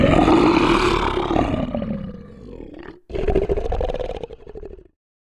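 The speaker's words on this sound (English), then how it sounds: "Lion." A lion lets out two loud, close roars in quick succession, the first long and sweeping, the second rougher and shorter, ending in silence.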